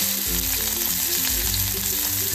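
Finely chopped small onion frying in oil in a kadai, a steady broadband sizzle with a low rhythmic thumping underneath, close and continuous throughout.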